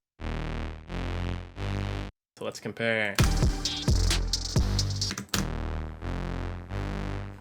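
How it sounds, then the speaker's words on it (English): Synth chord stabs with added distortion for a fatter, rave-like tone, repeated as sustained hits alone, then briefly interrupted by someone talking over a busy passage before the chords return. "I think we're gonna add some distortion to make that a little fatter."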